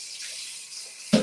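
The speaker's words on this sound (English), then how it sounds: "I'm going to rinse this out so that I can get the asparagus rinsed off really good." Tap water runs into a kitchen sink to rinse asparagus, a steady soft hiss of flow that ends in a brief louder splash near the close.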